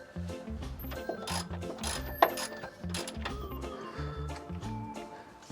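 Screws being removed from a heater pump bracket in a Winnebago Revel camper van, heard as close, rhythmic ratcheting clicks and small metallic taps that repeat in quick bursts throughout.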